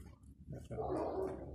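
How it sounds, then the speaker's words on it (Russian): Alabai, a Central Asian shepherd dog, growling and barking nearby in a residential private-house area, with a rough rumbling growl building into sustained louder vocalising. "Ну тут, судя по голосу, какой-то алабай."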